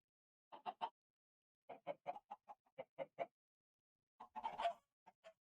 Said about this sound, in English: let's kill more chickens.